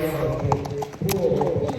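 Horses' hooves clip-clop at a show jumping competition in Grabels, a steady close rhythm of hoof beats with people talking over them.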